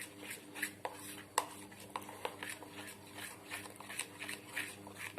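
Vada batter stirred in a bowl after a pinch of soda goes in, a quiet run of light clinks and scrapes from a spoon against the vessel.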